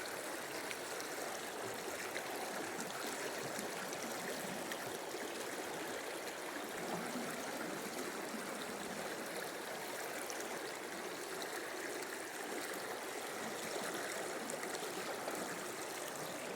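A creek flows steadily over rocks and bedrock, a continuous broadband rush and trickle of running water heard close and alone, with no voices.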